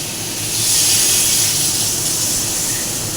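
Water poured into a hot pan of spiced curry for a Bengali katla fish dish with potato and green banana, giving a loud, steady hissing sizzle that swells and then holds, with no talking.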